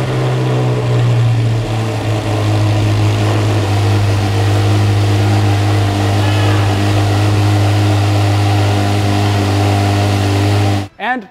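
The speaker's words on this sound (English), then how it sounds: "this car is certainly not the quietest Z06 I've heard." Corvette Z06 fitted with a FabSpeed exhaust with carbon fiber tips and a carbon fiber Eventuri intake, holding a loud, steady deep drone close by for about eleven seconds before cutting off abruptly near the end.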